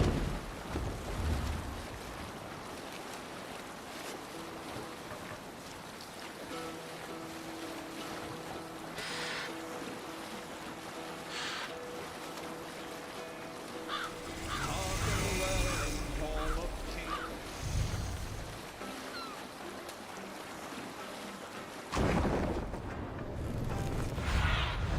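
Sailing ship at sea in Assassin's Creed Valhalla, with a steady wash of waves and wind around the hull, a louder surge of water midway and another near the end, while voices talk over it.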